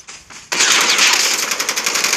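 Rapid automatic gunfire from the Call of Duty Mobile game, a loud burst starting abruptly after a brief quieter shot and rattling on in a fast continuous stream.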